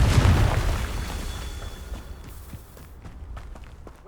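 A magical Confringo fire spell bursts in the Hogwarts Legacy video game, a loud booming blast at the start that rumbles and fades over a few seconds, with faint footsteps and crackles trailing after.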